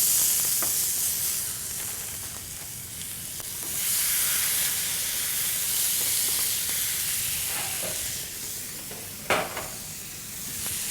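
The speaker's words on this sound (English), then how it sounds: "This is a point where I'm searing the protein" A bone-in ribeye cowboy chop sears in a cast iron pan, giving a steady, close sizzle and hiss that swells and fades slightly, with a few sharp crackles and pops breaking through near the end.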